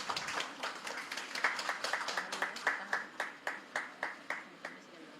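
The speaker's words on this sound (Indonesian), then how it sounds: "Boleh kita berikan tepuk tangan sekali lagi?" An audience at an Indonesian state ceremony claps, a steady run of sharp, evenly spaced hand claps that stays moderate and fairly distant, with no voices over it.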